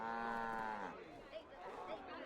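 A cow in Assassin's Creed III lets out a single drawn-out moo that fades after about a second, followed by quieter ambient game sounds.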